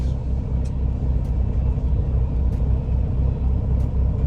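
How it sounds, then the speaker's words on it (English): A semi truck's diesel engine runs steadily and close by, a continuous low rumble with faint faraway clicks and no talk over it. "it's hard for you guys to hear with the truck running"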